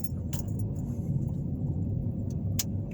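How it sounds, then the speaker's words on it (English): Low, steady engine and tire rumble from a car cruising around a residential block, heard from inside, with a couple of brief light jingling clicks over the drone. "Basically, I'm driving around the block"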